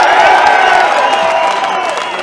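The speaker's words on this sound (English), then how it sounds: "Another big cheer for Max and the Greenies!" A large crowd at a rally supporting the CFMEU construction union cheers and applauds loudly and continuously, with claps, whoops and shouts blending into a dense, sustained roar.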